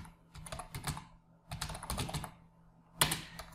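Typing on a computer keyboard while entering a name into an online ration card application form, in three quick bursts of clustered key clicks separated by short pauses, ending with a sharper, louder keystroke.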